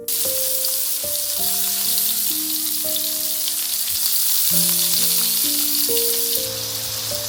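Loud, continuous sizzling of chicken frying in hot oil in a pan, with music playing underneath.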